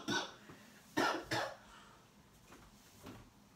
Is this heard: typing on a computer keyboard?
no